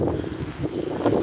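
Gusty wind blows steadily across open flooded fields in West Yorkshire in winter, a broad rushing roar buffeting the microphone and swelling toward the end, with no voices.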